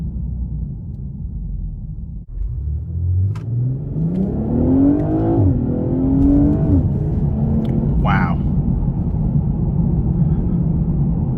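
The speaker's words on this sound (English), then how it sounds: "Just great acceleration. And the shifts are just, I mean, the snap of your finger, just crazy." A turbocharged 2020 BMW 840xi M Sport Gran Coupe accelerating hard, heard from inside the cabin: engine pitch climbs steadily through a gear, drops sharply at a quick shift, then settles into a loud steady drone.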